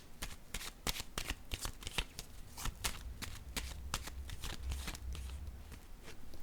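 Tarot cards handled and laid down during a reading, a quick series of crisp papery flicks and slaps, close and quiet, with faint low rumble underneath.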